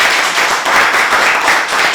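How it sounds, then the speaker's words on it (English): Audience applause fills a swearing-in ceremony for a new police chief in the City of Mount Rainier, a steady, dense wash of clapping that holds at full strength for the whole moment. "So give a big round of applause to our Chief Perez as well."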